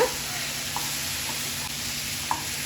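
Chicken frying in a pan with salt gives a continuous close sizzle, with a few soft scrapes and knocks as it is stirred, and no talk.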